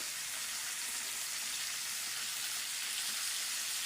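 Tilapia sizzles steadily in hot oil, a continuous bright crackling hiss with no pauses, heard close and fairly quiet with no talk over it.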